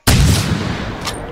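A .308 handgun fires once in theHunter: Primal, a single loud, sharp report with a booming low end that rings out and decays slowly over the next second, with no voices.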